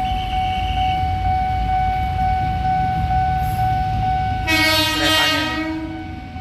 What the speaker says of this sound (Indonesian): Ini keretanya.